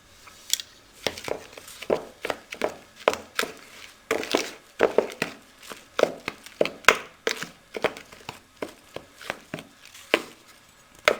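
Spices are mixed into gram flour batter for pakoras, giving a rhythmic run of clacking, thudding spoon-against-bowl strikes, a few per second, with no one talking.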